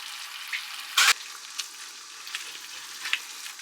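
A ragu-style sauce with ketchup and a little sweetener simmering in a pan, a soft steady sizzle with occasional light clinks and a brief louder scrape, heard close with no talk.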